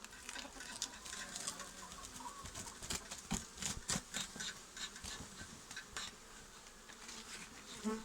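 Honeybees buzzing loudly around an open hive during an inspection, a dense continuous hum with individual bees zipping close past, punctuated by soft tapping and handling noises of the frames.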